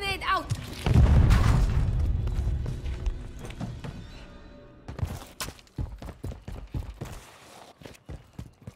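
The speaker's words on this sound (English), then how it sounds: "Stun grenade out!" A stun grenade goes off in Call of Duty MW3 gameplay as one loud, close, booming blast, followed by a fading ring and a scatter of quieter game thuds and footsteps.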